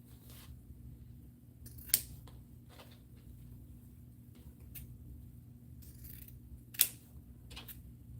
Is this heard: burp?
no